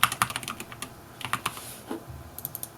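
Keys are tapped on a mobile app keyboard, a sparse, quiet run of light clicks with no voices.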